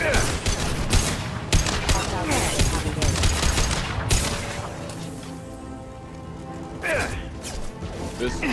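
Rapid, overlapping gunfire rattles through a combat scene in Mass Effect 2, with dense volleys and impacts that thin out near the end before a few more shots. Voices can be heard amid the shooting.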